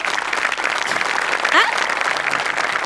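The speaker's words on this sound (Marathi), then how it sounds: "तर मंडळी जोरदार टाळ्या" Steady applause from a comedy show studio audience fills the whole stretch, with a brief whistle-like sweep rising partway through.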